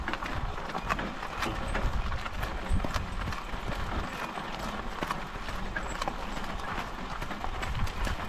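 A strong draft horse's hooves clip-clop in a steady walking rhythm, moderately near, over a faint outdoor background with no talking.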